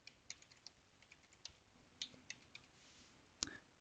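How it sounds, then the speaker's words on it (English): Password keys typed on a computer keyboard, a sparse run of light, distinct clicks spaced unevenly, with one firmer keystroke near the end, close and quiet with no talk. "we're going to type in a password."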